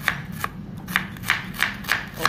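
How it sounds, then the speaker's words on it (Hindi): Knife finely chopping onions on a board in a home kitchen, a steady series of crisp, close taps roughly every third of a second, with no talk over them. "पहले प्याज कट कर लो बारीक बारीक"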